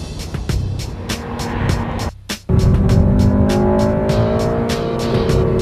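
A Honda Civic Si driving hard through the hills of Lake Las Vegas: a loud, close engine revving up, a brief drop during a gear change, then a strong pull again.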